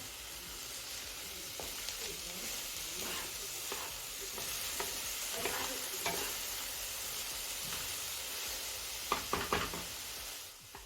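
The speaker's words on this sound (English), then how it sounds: "It sizzles like when you add onions." Steady crackling sizzle of okra frying in hot oil, continuous and close, with a few sharper pops and light clinks near the end.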